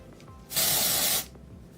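Dry shampoo sprayed from a can onto hair roots: one short, loud hissing burst of about two-thirds of a second, close up, with quiet before and after.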